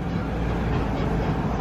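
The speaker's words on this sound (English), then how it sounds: "I haven't been on a tram in a while." A Disney parking lot tram runs at steady speed, a continuous rumbling, rolling drone that stays loud and close throughout with no breaks.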